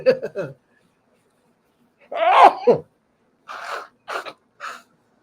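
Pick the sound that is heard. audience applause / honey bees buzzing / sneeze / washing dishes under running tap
sneeze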